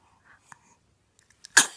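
A single sharp sneeze from a pet, close and fairly loud, bursting out after a few faint sniffs and small breathy sounds in an otherwise quiet room.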